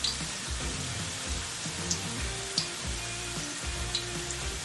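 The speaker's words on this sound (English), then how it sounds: "they do take a little longer to fry" Small wontons fry in hot oil with a steady, dense sizzle and crackle, with occasional louder pops over the continuous hiss.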